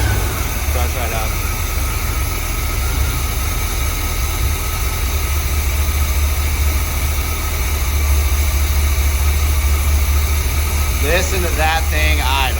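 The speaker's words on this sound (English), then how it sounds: "Listen to that thing idle." A 1975 Chevrolet C3 Corvette, restarted after fifteen years with its fuel pump running off the tank, idles in a loud, steady, low rumbling drone up close, while people talk briefly at the start and near the end.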